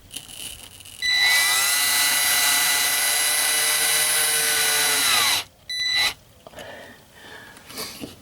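A power drill drives screws to mount a shelf inside a Flagstaff Micro Lite 19FD RV, one long loud steady whir of about four seconds followed by a short second burst, then quiet handling noises.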